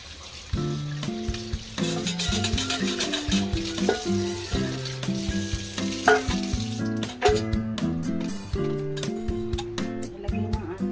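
Garlic, ginger and onion frying in a pan, a steady close sizzle with occasional stirring knocks, heard under prominent melodic background music.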